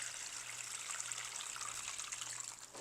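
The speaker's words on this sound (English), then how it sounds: "fill it up halfway with water" Tap water runs into a container being filled halfway for soaking plant cuttings, a continuous bright trickling rush that holds steady, with a faint low hum beneath it.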